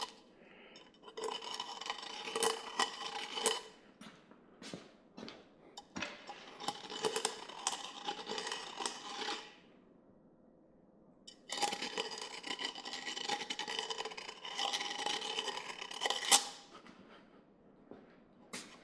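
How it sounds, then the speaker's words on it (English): Metal intercooler pipes being deburred by hand, with bursts of rasping, scraping strokes separated by short pauses; fairly close and moderately loud, with no speech. "Just deburred the frig out of that."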